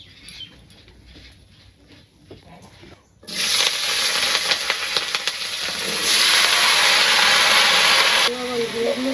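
Oil hits a hot pan in a village kitchen and bursts into a loud, steady hissing sizzle after a brief quieter moment with faint voices, the sizzle then continuing strongly.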